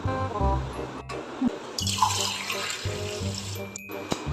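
Salt water is poured into a cup at home, a steady close trickle and splash of liquid, with voices talking underneath.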